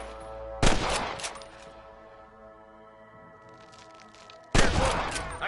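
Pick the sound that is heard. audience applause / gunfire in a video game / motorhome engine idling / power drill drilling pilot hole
gunfire in a video game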